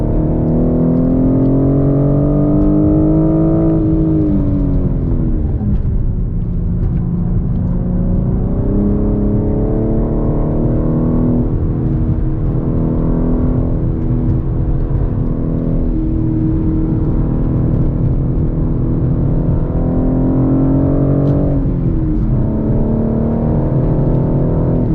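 A 2021 BMW M4 with a six-speed manual gearbox pulls hard around a race track, its turbocharged engine heard from inside as a loud, sustained drone that climbs in pitch through each gear, drops at the shifts and climbs again.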